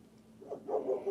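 Dog howling, a short, faint, wavering low howl rising in pitch toward the end, heard alone without talk.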